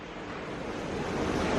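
A river flows right beside a hotel in Kasol, a close, steady rushing wash that swells slightly over a brief moment, with no voices.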